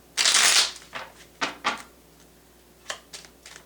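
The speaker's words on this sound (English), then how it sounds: "One more shuffle for the immediate future." Tarot cards are shuffled close by: a loud riffling flutter at the start, then several softer, separate slaps and taps as the deck is handled, with quiet gaps between them.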